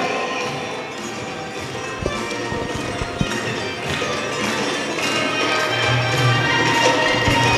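A studio audience at a homemakers' game show claps fast and hard, a dense, steady patter of many hands that stays loud throughout with a few sharper thumps.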